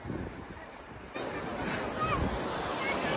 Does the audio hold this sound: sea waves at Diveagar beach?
yes